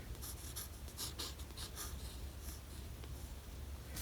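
A pencil scratches softly across paper in a continuous, quiet drawing texture with light rhythmic strokes and no talking.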